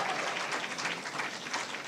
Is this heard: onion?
no